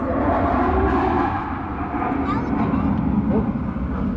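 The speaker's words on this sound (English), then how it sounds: "Oh, there was a jet just flew over." Jet aircraft passing overhead near the Duxford air museum, a loud, broad roar filling the whole moment with people talking over it.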